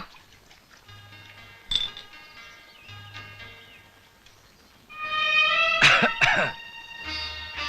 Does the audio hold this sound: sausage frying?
no